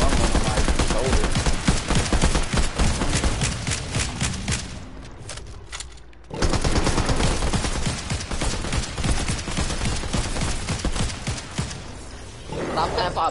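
AR rifle fire in a video game pours out in loud, rapid bursts that stop briefly partway through, with people talking over the shooting.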